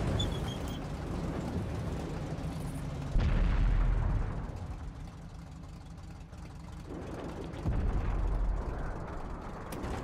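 Artillery fire in the tank game World of Tanks, playing as an E75: heavy booming blasts, two strong low thuds amid a rumbling engine and battle noise, with no talking.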